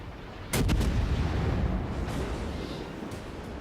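The cruiser New Orleans fires a naval gun salvo in World of Warships: a loud, booming blast with a rolling rumble that fades over a few seconds.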